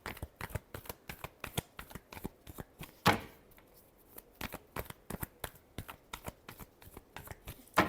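Tarot cards being shuffled close up, a rapid run of crisp riffling flicks and taps in an uneven rhythm, quiet and alone, with one louder slap partway through.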